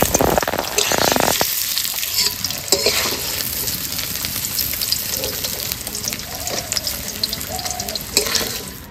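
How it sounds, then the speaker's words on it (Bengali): Paneer pieces lightly frying in oil in a home kitchen: a steady, close, broadband sizzle and hiss with occasional stirring scrapes, continuous throughout and with no talking. "এই যে পনির তো পূজা পিস পিস করে দিয়েছে, এবার হালকা করে ভেজে নেব।"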